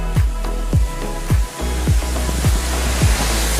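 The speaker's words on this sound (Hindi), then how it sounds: "100 फीट का झरना" A 100-foot waterfall at Mahadev Muda in Mainpat roars loud and close, a dense continuous rush broken by repeated low buffeting thumps.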